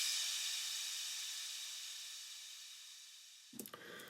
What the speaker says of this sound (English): And we have a crash ambient that sounds like this.